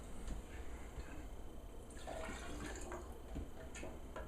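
Water trickles and splashes faintly into a container of honey and buckwheat for a small batch of mead, a soft, steady pour in a kitchen with no talking.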